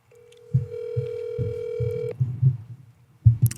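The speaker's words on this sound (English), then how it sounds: "Here, let's just call him." A telephone dial tone hums steadily for over a second while soft low thumps of handling sound around it, as a phone call is being placed indoors.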